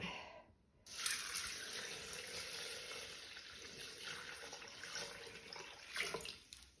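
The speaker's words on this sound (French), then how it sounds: "Et on va mettre 650 g d'eau. Alors, je mets l'eau." Water pours into a pot for chicken bouillon, a soft steady stream starting after a brief quiet gap and ending with a final splash, faint and close.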